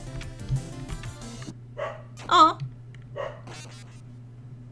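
Dogs barking indoors in a room late at night, a few short barks and yips at moderate distance over a steady hum, with a person briefly speaking.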